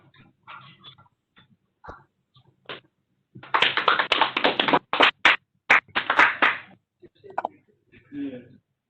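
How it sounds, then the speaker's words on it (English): Applause from an audience at an induction ceremony for appointed interns, breaking out after a presentation as a burst of clapping that builds after some quieter sounds, then tapers off with scattered claps. "we will give you then a round of applause for that very good presentation"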